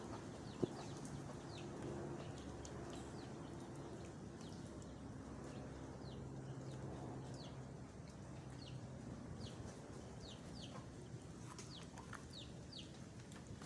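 Faint clucking of caged chickens against a quiet, steady background, with repeated thin chirps scattered throughout.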